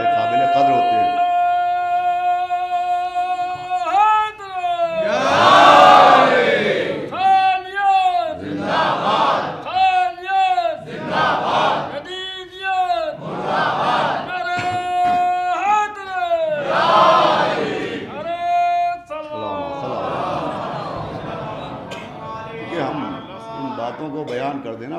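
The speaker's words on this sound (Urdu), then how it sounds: "یہ جو نعرے لگتے ہیں" A large crowd at a majlis shouts religious slogans in loud, rhythmic unison, answering a leading voice in repeated call-and-response waves across the whole stretch.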